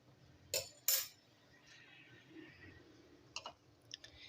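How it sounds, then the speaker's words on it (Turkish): Cooked zucchini being mashed with a hand masher in a pot for a zucchini pudding dessert: a few scattered clicks and clinks, two sharper ones early and lighter ones later, fairly faint and without talk. "Kabaklarımız bayağı bir pişti. Hatta ezildi. Şimdi alıp ezelim."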